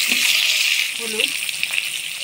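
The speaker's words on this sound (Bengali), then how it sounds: "এবার এই তেলের মধ্যেই হলুদ লবণ দিয়ে আলুগুলো ভাজি নিব।" Potatoes frying in oil with turmeric and salt for a Bengali-style pomfret curry, giving a steady close sizzle throughout with faint stirring and a brief voice underneath.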